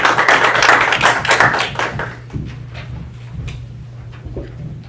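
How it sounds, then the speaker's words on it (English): People at a council meeting clap for a council member, a loud burst of applause in the first two seconds that quickly fades to a few scattered claps and taps over a steady room hum. "Let's give her a round of applause for her dedication."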